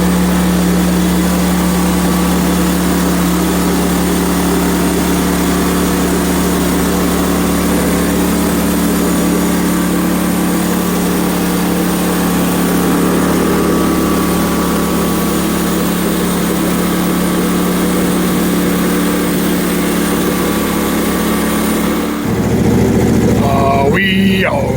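A sawmill engine runs steadily at idle for about twenty seconds while warming up, a loud constant drone, then shifts near the end as it is adjusted, with a short burst of changed engine noise.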